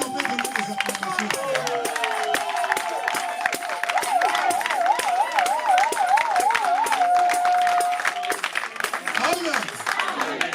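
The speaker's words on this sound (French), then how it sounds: "Est-ce qu'on peut donner des acclamations?" A church congregation claps and cheers loudly, with rapid, dense applause, crowd voices and a long warbling ululation rising over the din, sustained for the whole stretch.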